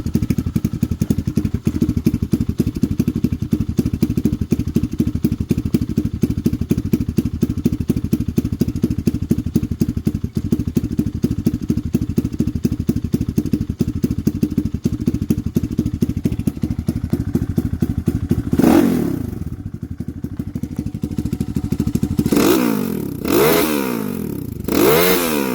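Lifan KP Mini 223 motorcycle, a 165FMM OHC engine, idling cold with a fast steady putter close by. Near the end it is revved hard in three sharp bursts with loud rising and falling roars.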